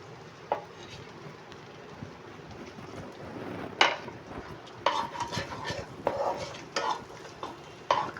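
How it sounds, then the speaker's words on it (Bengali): Garlic and black pepper are stirred in a pot while making chicken soup, giving soft scraping and clinking of a spoon against metal with a low frying sizzle, moderately close, with no talk. "হালকা করে নাড়তে হবে। তারপর রসুনগুলো দিয়ে দিলাম।"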